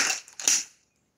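A pressurized can of fresh tennis balls being opened at a tennis complex in San Pedro de Macorís, Dominican Republic: a sharp hiss-pop with a crackling release, close and brief, then fading into silence.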